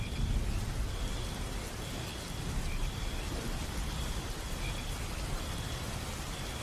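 Heavy rain falls steadily through the night on a lonely road, a continuous low wash of downpour with a faint high tone running through it, no voices.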